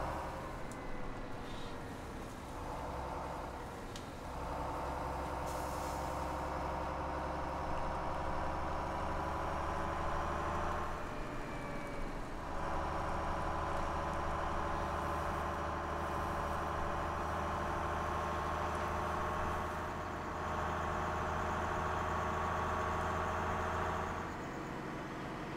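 A truck engine idles in a farming video game, a steady low rumbling drone that holds evenly for the whole stretch with only slight dips in tone and no talking.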